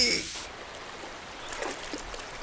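Water splashing during a swimming lesson: a short burst of splashing at the start, then softer trickling and lapping water at moderate distance.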